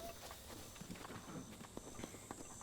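Horse hooves clip-clop in the video game The Legend of Zelda: Breath of the Wild, a quiet, steady trotting rhythm of distinct hoofbeats over a faint background tone.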